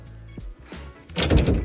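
The cab door of a JCB excavator used in forestry work swings and shuts with a few close thuds and clunks, ending in a louder, fuller closing clatter, with no talk over it.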